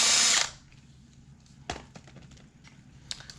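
A power drill bores a hole in a wooden jewelry knob board in one loud, short whirring burst, followed by quiet clicks and light handling.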